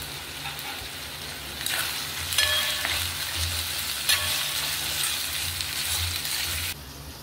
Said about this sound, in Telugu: ఈ ముక్కలు కొంచెం ఈ ఆయిల్లో మగ్గాలి.